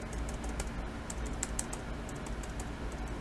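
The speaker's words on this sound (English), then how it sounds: "the other keys, listen to when I hit them" Keys are pressed on a Teclast F5 tablet's keyboard, producing a quick run of dull, muted taps at an irregular typing rhythm, close and unaccompanied by speech.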